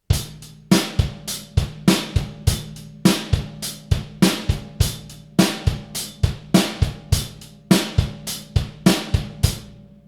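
A drum kit plays a steady rock verse beat, punchy kick and snare hits with regular cymbal strokes in a repeating pattern, close and alone.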